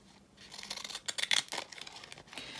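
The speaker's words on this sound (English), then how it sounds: "I can do this with my decal edge scissors. I'll just run along this with my decal." Decorative edge scissors cut along a sheet of paper for a craft journal page, giving a quiet run of crisp snipping and rustling strokes with no one talking.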